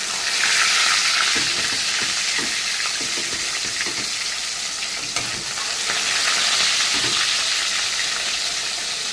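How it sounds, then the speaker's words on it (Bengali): Fish frying in hot oil in a home kitchen, a loud continuous sizzle and crackle with occasional stirring clinks and spatter, no talk. "আমার তেলটা গরম হয়ে গেছে, এখন আমি মাছটাকে দিয়ে দেবো"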